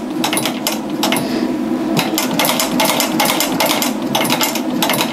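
A heavy-duty leather sewing machine in a leatherwork shop drives its needle through thick leather, giving loud, rapid, mechanical stitching bursts with short pauses between runs.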